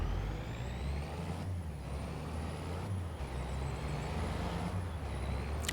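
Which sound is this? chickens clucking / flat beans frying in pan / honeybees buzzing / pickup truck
pickup truck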